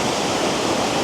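Busra waterfall in Cambodia roars as a loud, steady, close rush of falling water, a dense broadband wash with no voices heard.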